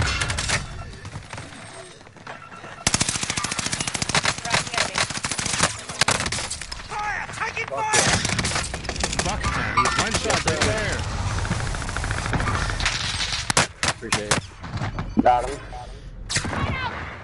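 Gunfire from a video game played on a PS4 comes in loud bursts and rapid volleys, with a few separate sharp shots, while players talk over it.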